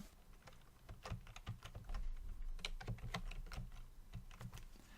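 Steady, fast typing of a project name on a computer keyboard, a dense run of close, soft clicks and key taps going on without pause, with no talking.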